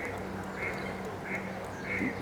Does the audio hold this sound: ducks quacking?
yes